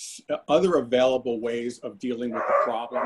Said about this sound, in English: If you hear dogs in the background